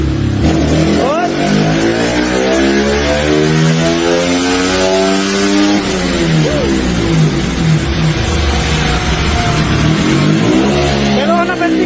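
A remapped Yamaha Sniper v3 motorcycle engine revs hard on a dyno, climbing in pitch through repeated sweeps and dropping back, loud and close, with people talking over it.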